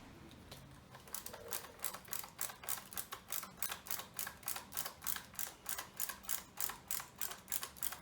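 Rapid, evenly spaced ratchet clicks ring out close by as bolts are tightened on a Husqvarna 128R brushcutter, a long run of quiet metallic ticks with no speech.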